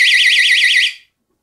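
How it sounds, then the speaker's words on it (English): A laser tripwire home security alarm gives a loud, piercing warbling electronic siren that rises and falls rapidly for nearly a second, then cuts off into silence. "the alarm will be turned on and you will wake up by the sound of the alarm"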